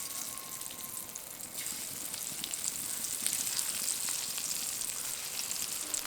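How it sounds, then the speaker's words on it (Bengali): Banana flower dhoka fry one by one in hot white oil in a wok, giving a steady, close, bright sizzle that swells slightly as more pieces go in. "এবার ধোকাগুলো একটা একটা করে দিয়ে ভেজে নেব।"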